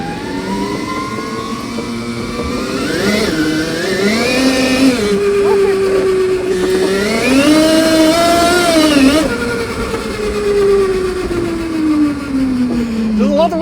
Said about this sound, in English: There's a lot of wheels spinning.